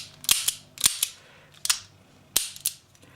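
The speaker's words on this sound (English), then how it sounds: "those are snap caps and they're not live rounds, is now you can dry fire." Pistol dry fired on snap caps with rubber-cushioned firing pin: five sharp metallic clicks and snaps at irregular intervals, close and crisp, with no talking.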